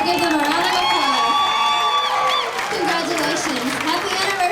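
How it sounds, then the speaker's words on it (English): A restaurant crowd at an opry night applauds and cheers for a couple celebrating their anniversary, with loud whoops and shouting layered over steady clapping throughout. "I'll give them a round of applause."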